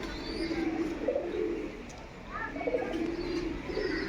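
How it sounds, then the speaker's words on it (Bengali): Pigeons coo repeatedly at an old temple, Kalyaneshwari near Asansol and Maithon, in a quiet setting, their soft rolling calls close and steady over a low background murmur. "অনেক পায়রা এখানে রয়েছে।"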